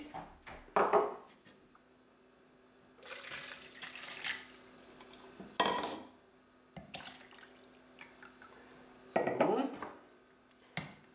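Milkshake ingredients for a coffee shake are tipped one after another into a tall container, giving several short clattering, splashing bursts separated by quiet kitchen pauses.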